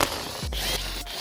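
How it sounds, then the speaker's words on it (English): A power tool removes 10mm bolts from the lower section of a BMW G20 330i front bumper: one brief, close whirring spin-up that settles into a steady low drone and then stops. "what we're going to do is remove all these 10 mils on the lower section of the bumper"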